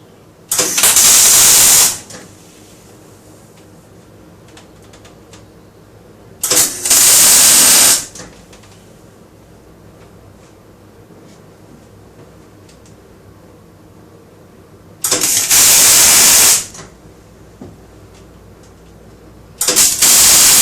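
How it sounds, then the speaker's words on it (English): Metal battery racking for additional cells is welded into a BMW E39 EV conversion, heard as four loud bursts of harsh crackling buzz, each about one to two seconds long, separated by quiet pauses. "welding in the last of our racking for the additional cells"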